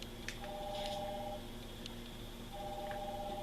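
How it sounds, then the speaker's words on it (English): A telephone rings in the Batman: Arkham Asylum video game, two faint electronic trill bursts separated by a pause, set against a low ambient hum with a few small clicks. "The phone. Where's the phone? I hear it."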